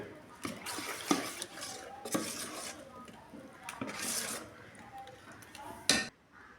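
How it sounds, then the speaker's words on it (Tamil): Ground greens paste being stirred into dosa batter in a kitchen bowl, a run of close scraping and clinking strokes from a spoon against the vessel, steady and uneven, with a sharper knock near the end. "இது வந்து தோசை மாவில் கலந்துக்க வேண்டியதுதான்"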